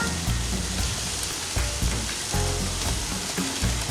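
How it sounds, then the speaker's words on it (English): Bacon strips sizzling steadily on a grill, a loud continuous crackle and hiss with no one talking. "I always like to just give it a couple of flips so the bacon cooks nice and even"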